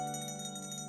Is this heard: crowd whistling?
no